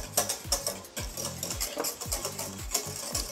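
Chocolate pastry cream being stirred in a pan for éclairs, a rapid rhythmic scraping of utensil against the pan with repeated swishing strokes and light clinks, close and steady with no talk.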